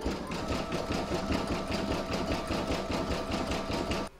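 An embroidery machine sews a satin stitch along the join of an in-the-hoop mandala placemat, a close, continuous rhythmic buzzing hum that stops abruptly at the end.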